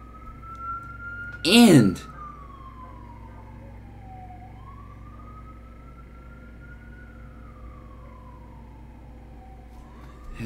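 An ambulance siren wails up and down at a steady, moderate distance, long slow sweeps continuing throughout, with a brief loud voice burst near the start.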